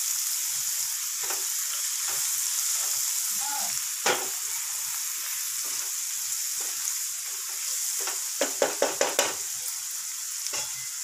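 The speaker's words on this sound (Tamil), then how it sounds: "அந்த மாங்காய் வந்து சேர்த்து வதக்கிக்குங்க." Chopped raw mango sizzles with prawns in a hot pan for a prawn and mango gravy, a steady close frying hiss broken by occasional stirring clicks and a quick run of spatula taps near the end.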